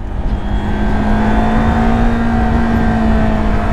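Motorcycle carrying a pillion passenger through heavy city traffic, a loud steady engine drone with wind rush and a sustained tonal whine, no talking.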